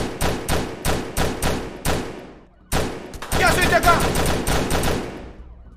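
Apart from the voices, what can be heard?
gunfire in a video game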